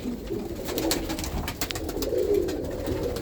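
Roller pigeons coo in a loft, several birds overlapping in low repeated throaty calls, close and continuous amid light fluttering and scratching.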